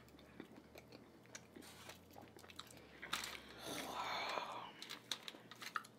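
Close, wet chewing of Pop-Tart, cheese, hot sauce and peanut butter, with crunchy bites and smacking that keeps going throughout and a burst of louder crunching partway through.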